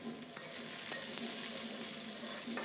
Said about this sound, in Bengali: পেঁয়াজ আর আলু একসাথেই ভাজা হবে